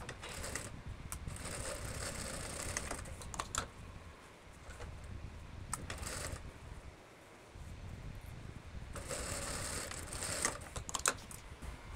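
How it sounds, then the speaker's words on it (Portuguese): A home sewing machine runs in short bursts of rapid stitching as it closes the darts of a skirt, starting and finishing with backstitches, with pauses between runs and faint wind noise, all fairly quiet. "vamos lá para a máquina agora"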